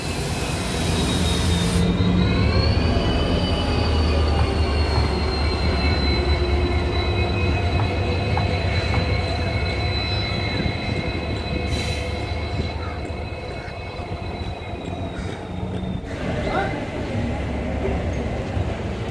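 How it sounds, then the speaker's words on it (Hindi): A locomotive rolls slowly along an Indian Railways station platform to couple onto an express train. It gives a continuous heavy rumble with long, high-pitched wheel squeals, and voices can be heard faintly. "आ चुका है हमारी ट्रेन का लोकोमोटिव, ये आगे की ओर जा रहा है दोस्तों लगने के लिए।"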